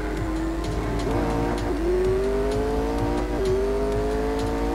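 A race car in the Real Racing 3 mobile game drones steadily with its engine pitch dipping and climbing as it slows for corners and speeds up again, a constant synthetic engine tone with no talking.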